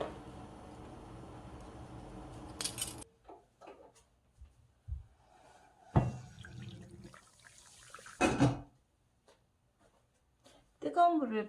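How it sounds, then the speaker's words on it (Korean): Hot water is poured into a frying pan that has grease and burnt stains. A brief liquid pour and splash comes in short bursts between quiet gaps, with a voice speaking nearby. "뜨거운 물을 부어주세요."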